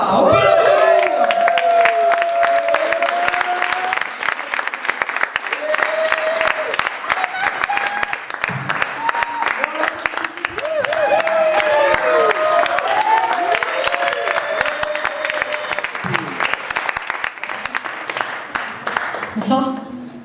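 An audience at a slam poetry tournament applauds and cheers for a poet as she takes the stage. Dense, loud clapping carries on throughout with crowd noise and voices mixed in, and people talk and call out over it.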